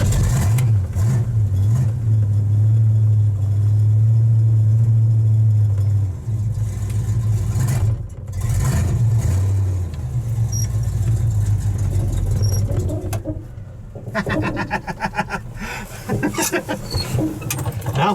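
A Ford Ranchero with no choke drives off cold, its engine running rough: a steady low drone that wavers and surges unevenly, dips and stumbles midway, then picks back up with a choppier, rattling tone.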